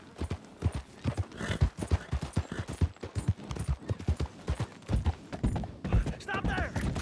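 Horse hooves clip-clop in a brisk, steady rhythm, close and clear, with a few heavier thuds mixed in, in the video game Red Dead Redemption.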